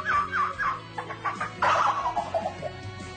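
A person imitates a turkey with the mouth, making a quick series of warbling gobble-like calls, close and fairly loud.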